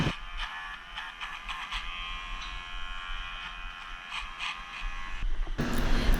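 Electric clippers buzz steadily while trimming a small pony's bridle path behind the ears, a close, continuous mechanical whir with faint ratcheting clicks, ending in a louder rustle.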